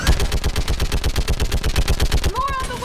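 A suppressed M-11 pistol fires in Mass Effect 3 Legendary Edition: a long, fast, steady string of loud, muffled shots, about a dozen per second, ending in a short electronic tone. No talking.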